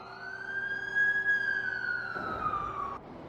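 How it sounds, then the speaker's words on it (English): An ambulance siren in a Spider-Man game cutscene wails loud and close with a steady rising tone, then shifts pitch and cuts off near the end. "That's the ambulance I called."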